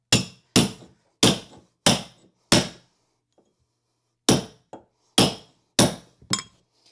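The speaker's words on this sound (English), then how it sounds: "we'll take our hammer, lock it down on the pins" A hammer strikes carpet tread down onto the tack pins, five sharp, evenly spaced blows, a pause, then four to five more. The knocks are loud and close with no talking.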